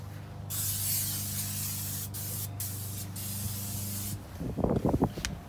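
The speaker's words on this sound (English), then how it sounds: "Just a simple spraying with some simple Pam" A close can of Pam cooking spray sprays onto the steel of a Yoder 1500 smoker in a loud, steady hiss with a few brief pauses, ending in some clattering and knocking after the spray stops.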